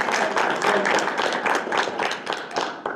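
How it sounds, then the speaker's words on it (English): Audience applause at a school board meeting, a dense wash of many hands clapping at moderate distance, steady and sustained with slight swells, and no talk over it. "let's give them a round of applause."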